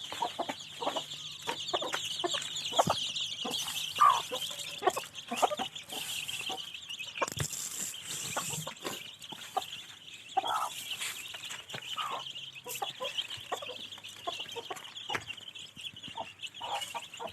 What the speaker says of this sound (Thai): วันนี้ผมจะมาให้อาหารไก่นะครับ